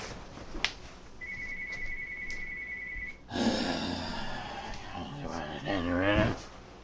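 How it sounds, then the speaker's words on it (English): A steady electronic phone ring sounds for about two seconds, then a person starts talking loudly and close by. "my phone started ringing"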